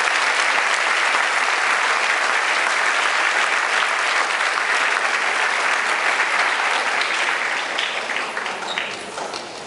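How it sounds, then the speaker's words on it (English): A school audience applauds 5th-grade high honor roll students in sustained, dense clapping from many hands that holds steady for several seconds before gradually thinning and fading at the end. "So let's give them all a round of applause."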